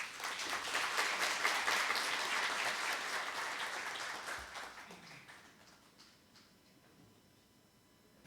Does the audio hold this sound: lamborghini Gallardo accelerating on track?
no